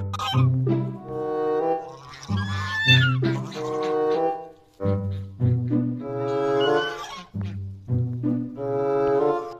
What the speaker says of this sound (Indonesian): Wow, lihat teman-teman, ini angsa.